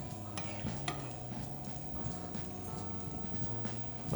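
Cacio e pepe pasta is stirred in peppery broth, with soft repeated clacks and scrapes of a utensil against the pan over a low simmer, close and fairly quiet.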